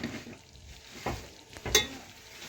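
Chicken is stirred and mixed in a frying pan, giving a soft continuous sizzle broken by a few spatula scrapes and one sharp metallic clink near the end.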